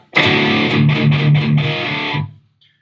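A short burst of distorted electric guitar through an attenuator, a few chugging chords with muffled, dark tone, ringing briefly then cutting off.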